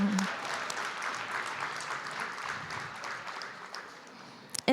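An audience at a democracy summit in Dayton applauds its youth participants, a steady broadband wash of clapping that holds for several seconds before ending in a few sharp, louder handling knocks.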